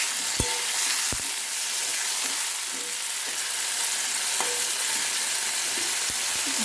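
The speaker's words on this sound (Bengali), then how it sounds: "পেঁয়াজ ভাজা হয়ে গেছে, আলু পটলটা দিয়ে দেবো।" Potato and pointed gourd pieces go into a pan of fried onion and sizzle steadily, with a few sharp clinks and scrapes of stirring against the pan.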